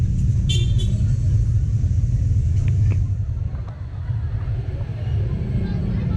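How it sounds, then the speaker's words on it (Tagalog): Cars idle and creep past an elementary school in heavy traffic, a low steady engine rumble with a few faint horn toots early on and a person talking nearby. "ganyan ka traffic. Kasi dito dumadaan yung mga sakyan"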